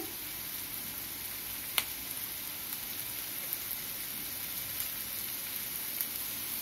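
Onions and vegetables lightly fry in a pan for veg Manchurian, giving a steady, soft hiss throughout with one brief sharp click partway. No one speaks.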